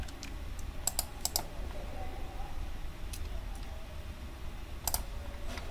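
Computer keyboard typing in short clustered bursts of clicks, fairly close, over a steady low room hum, with quiet gaps between keystroke runs.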